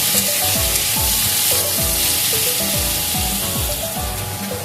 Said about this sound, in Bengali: একটু লাল করে ভেজে দেব